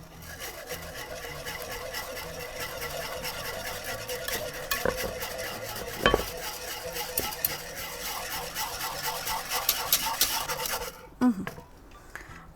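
A spoon stirs cherry sauce for ice cream in a pot, giving a continuous close scraping and swishing with a few soft metal knocks, ending abruptly in near quiet.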